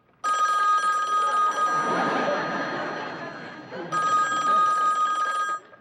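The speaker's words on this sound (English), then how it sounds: "your phone will start ringing off the hook" An old-fashioned telephone bell rings loudly in two long bursts, with a brief pause between them.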